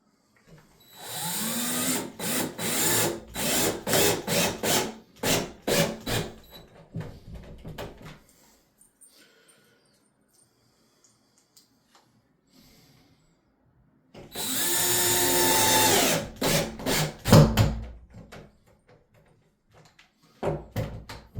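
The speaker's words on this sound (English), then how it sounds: "we're just going to throw some screws in that." A power drill drives screws through a drywall patch, two bursts of pulsing, whirring motor spin separated by a quiet pause, followed by a brief final burst.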